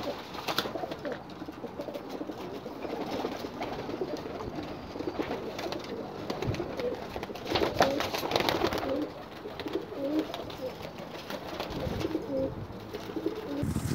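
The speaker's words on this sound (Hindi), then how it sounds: "अभी मैंने जिन कबूतरों का शौक़ कराया" Mixed-breed pigeons coo continuously in a busy loft, overlapping throaty calls rising and falling over a steady noisy backdrop.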